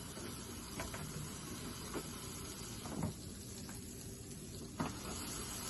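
A cheeseburger sizzles on a George Foreman grill, a steady close hiss of frying with a few faint pops and knocks, no voices.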